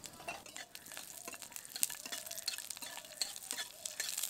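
Cumin seeds, a dried red chilli, green chillies and garlic cloves fry in oil in a wok, making a soft continuous crackling sizzle with scattered sharp pops, faint and unaccompanied by speech.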